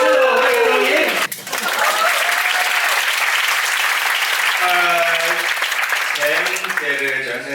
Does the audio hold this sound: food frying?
no